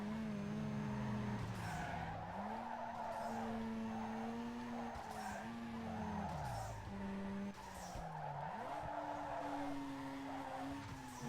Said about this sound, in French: Oh oui, énorme drift.